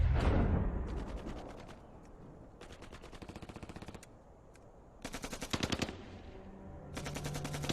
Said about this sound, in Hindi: ये तो फायरिंग बहुत नजदीक से हो रही है।